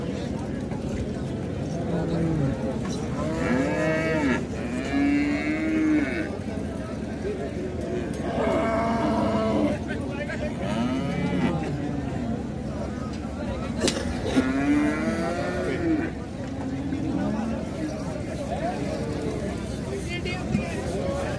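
Jersey cows moo repeatedly in long, loud calls over a steady background hum, with a few low voices murmuring nearby.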